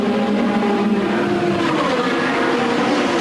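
Nelson Piquet's 1986 Formula One car accelerates out of Clearways at Brands Hatch during British Grand Prix practice, its turbo engine a loud, sustained, high-pitched roar that rises in pitch steadily and close up throughout.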